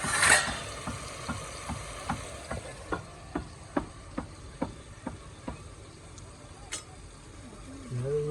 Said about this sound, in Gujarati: રાંધવાનું ચાલુ છે